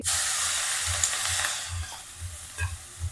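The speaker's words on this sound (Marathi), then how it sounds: "आता मी ही चटणी तेलामध्ये टाकून घेते" Green tomato chutney hits hot oil in a kadhai with a loud, steady sizzle that slowly eases, with a soft rhythmic low scraping from stirring underneath and no talk.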